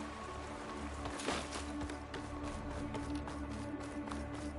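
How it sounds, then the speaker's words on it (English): Rain falling in the Horizon video game, a faint, steady hiss of drops pattering on surfaces, with a few sharper taps scattered through, continuous and even with no voices. "Sky's running out of rain for now."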